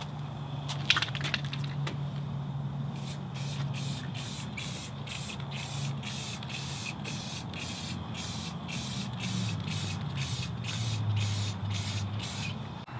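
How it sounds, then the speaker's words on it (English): Repeated short hisses of spray paint, about a dozen quick bursts in a steady rhythm over a low background hum. "now I'm going to spray some paint on it"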